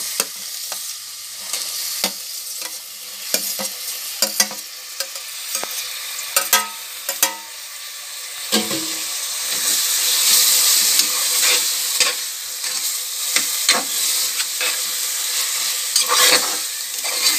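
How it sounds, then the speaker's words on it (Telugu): Tomato pieces fry in a pressure cooker pan for chicken cooker biryani, a steady close sizzle with frequent clacking stirs and scrapes of a spoon throughout, no voices. "ఇలాగా టమోటాలు ఫ్రై చేసుకోవాలి."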